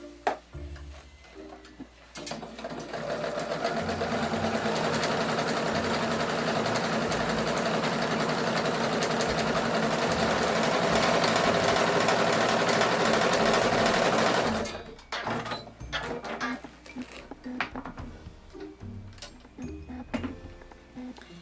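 Sewing machine stitching wavy quilting lines guided by a quilting ruler, a loud steady whirring run of about twelve seconds that stops abruptly, followed by quieter handling noises.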